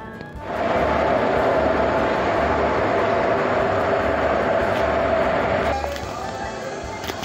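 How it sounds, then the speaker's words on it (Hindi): The Shirdi to Dadar express, hauled by a WCAM 3 locomotive from Kalyan shed, stands at platform 1 of a station, giving a loud, steady rumble and hiss that drops away near the end. "अपनी जो ट्रेन है शिरडी से दादर तक चलने वाली एक्सप्रेस ट्रेन जो कि पुणे के रास्ते चलेगी, वो अभी प्लेटफॉर्म नंबर 1 पे आ चुकी है"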